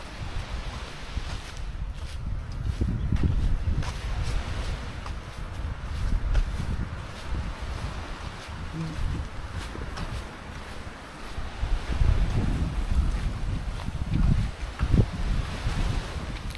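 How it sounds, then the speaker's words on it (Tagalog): Strong gusty wind buffets the microphone on Silvermine Bay Beach on Lantau Island, Hong Kong, swelling and easing in low, rumbling waves with no talk. "Galit na galit yung hangin."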